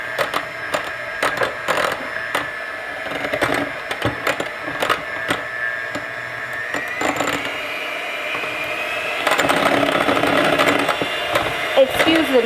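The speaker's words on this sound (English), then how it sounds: "You're just going to whip it enough so that it's creamy and airy." Electric mixer whips a bath bomb and soap mixture, giving a continuous mechanical whirring with clattering knocks against the bowl, loud and close, getting busier toward the end.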